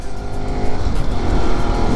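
A car approaching on a foggy mountain road in Laitlum, its engine and tire noise swelling steadily louder over about two seconds as it nears, loud and close.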